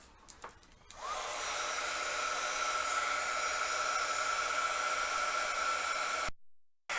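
A heat embossing tool blows hot air over embossing powder on a craft piece, a steady close whoosh that starts after a second of handling noise and runs unbroken for about five seconds before cutting off.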